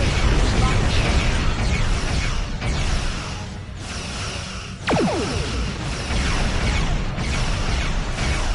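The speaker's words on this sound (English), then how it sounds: "Ship explosions cause damage." Ships explode during a space battle in the game Star Trek Online, producing dense, loud rumbling booms, a brief silence, then another burst with a descending whoosh. Game sound effects continue underneath.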